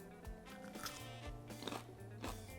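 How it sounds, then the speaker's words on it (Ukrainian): Faint crisp crunching bites into a juicy pickled cucumber, several crunches spaced apart, quiet and close, with no talking. "Ви чуєте, як він хрумтить цей огурчик?"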